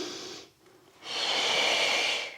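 A person breathes audibly during a pilates exercise: a short breath, a brief pause, then a longer, steady exhale with a hissing rush, close to the listener.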